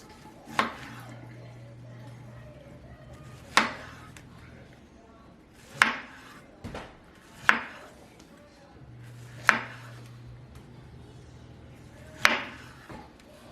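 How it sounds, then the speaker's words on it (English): A knife slices food for a smoked chicken dish on a cutting board, with six sharp, separate thunks spaced a couple of seconds apart. A faint low hum sits underneath. "And then we'll start slicing this so we can pair it up with those chicken thighs."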